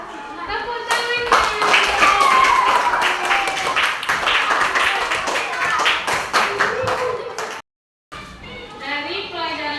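Classroom full of students clapping in a lively, sustained burst for nearly eight seconds, with children chattering under it, then a brief silent gap followed by quieter talk.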